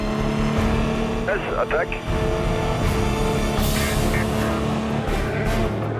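Peugeot and Audi race cars at Le Mans roar with steady engine drone and passing bursts, loud and continuous beneath commentary voices talking over the action.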